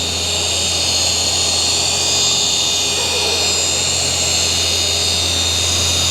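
A car paint polishing machine with an aluminum oxide pad runs in a loud, constant high whine on a vehicle's paintwork, steady throughout with no speech.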